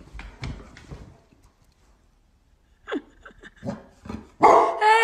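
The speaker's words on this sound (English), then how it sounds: "Hey, no barking." A dog barks in a handful of sharp, separate bursts close by, with quiet gaps between them and a louder cluster of barks near the end.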